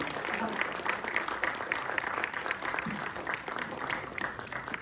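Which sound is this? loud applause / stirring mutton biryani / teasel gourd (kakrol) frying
loud applause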